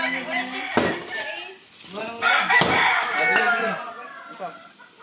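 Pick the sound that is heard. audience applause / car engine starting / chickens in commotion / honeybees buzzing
chickens in commotion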